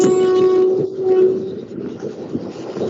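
A train horn blares loudly near a railway line for about a second, then gives way to the rumbling, clattering roll of passing railway cars.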